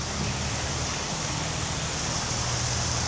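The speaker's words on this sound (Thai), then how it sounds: "ก็จะเป็น โซนน้ำตกนะครับ โซนน้ำตก" Artificial waterfall in the water zone of a dinosaur-themed cafe, a constant broadband rushing roar of falling water, close and steady with no other sounds standing out.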